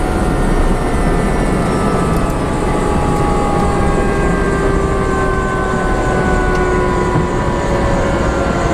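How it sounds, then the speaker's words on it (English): A U.S. Coast Guard helicopter's rotor braking after landing, a loud, dense, steady whine and rumble with slowly falling tones as the blades wind down, no voices. "That's the brake. The rotor brake."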